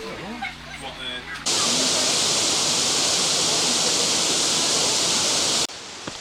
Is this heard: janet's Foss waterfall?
yes